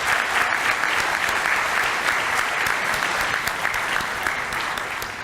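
Sustained, dense applause fills a hall as a seminar audience claps for presenters after a session, loud and even throughout, gradually tapering slightly toward the end.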